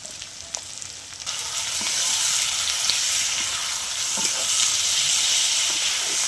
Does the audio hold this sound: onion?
yes